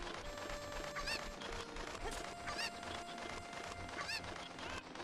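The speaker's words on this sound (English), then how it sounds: "Oh! Another chicken!" A Cucco chicken clucking in the video game Ocarina of Time, with repeated sharp squawks rising above a dense, loud, noisy game soundtrack and no talk.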